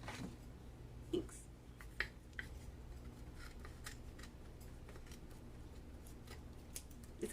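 Scissors snipping at an encaustic art demo table, a few sharp clicks spaced over a low steady room hum, fairly faint with no talk.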